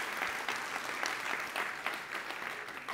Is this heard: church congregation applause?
yes